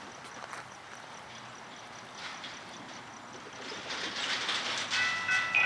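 A Florida East Coast freight train hauled by EMD diesel locomotives rumbles past at a distance, a steady broadband roar that slowly grows louder, with faint bird calls and a brief metallic squeal near the end.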